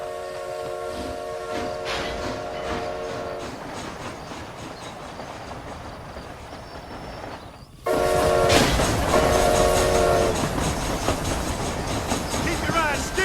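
An in-game train rolls along in Red Dead Redemption: Undead Nightmare, a steady rumbling run with horn-like tones, growing noticeably louder partway through, with voices talking over it.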